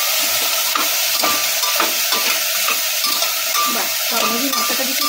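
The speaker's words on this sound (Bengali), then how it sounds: "এবার আমি এটাকে দিয়ে ভালো করে নেড়ে চেড়ে নেবো।" Pav bhaji masala being stirred into vegetables in a pan, with a steady close sizzle and frying hiss and scraping spoon strokes against the pan throughout, no talking.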